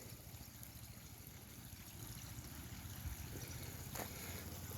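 A backyard man-made creek, built about twenty years ago beside azaleas, trickles steadily and softly with a broad, continuous watery hiss and faint low gurgling, no voices over it.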